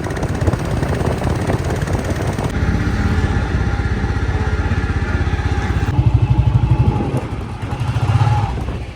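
A Royal Enfield Bullet motorcycle being ridden, its engine a loud, close, thumping putter that rises and falls as the throttle changes, steady throughout.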